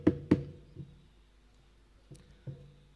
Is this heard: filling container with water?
no